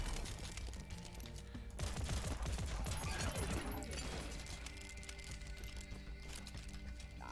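Rapid pistol fire rattles in the video game Dust and Neon, with dense overlapping shots and clattering impacts running continuously under busy game audio at a low level.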